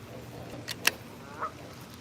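Geese honk near a pond in Little Rock, Arkansas: a few short, sharp calls, one loud and close, then a softer honk, over quiet outdoor background.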